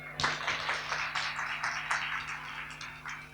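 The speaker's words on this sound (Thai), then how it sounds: "ปรบมือให้หน่อยได้ไหมครับ" An audience at a lecture hall event claps for a speaker, a soft, scattered patter of many hands heard from a distance, fairly faint and steady for a few seconds with no talking over it.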